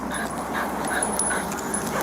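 A dog whimpers softly during a police stop, a thin whining sound close by over steady background noise.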